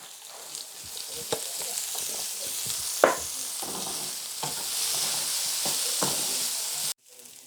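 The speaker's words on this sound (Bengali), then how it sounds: "তারপর পেঁয়াজ কুচি দিয়েছি। এখন দিয়ে দিব অল্প করে একটু তেল, যাতে পুড়ে না যায়।" Chopped onion fries in a small amount of oil for a shrimp bharta, giving a steady close sizzle broken by scraping stirs and a few sharp clinks before cutting off.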